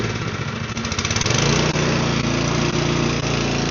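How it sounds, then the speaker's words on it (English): A small snow blower engine runs on choke, loud and close, with an uneven sputtering start that settles into a steady, buzzy drone. "So it runs on choke."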